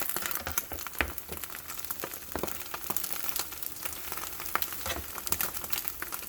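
Omelette frying on a Bella electric griddle, a steady close sizzle and crackle with light scraping and stirring taps of a spatula throughout.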